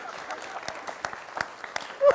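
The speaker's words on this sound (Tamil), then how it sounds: "கைத்தட்டு பாருங்க" A studio audience on the Tamil TV talk show Neeya Naana applauding, a scattered patter of claps at moderate distance that swells slightly near the end.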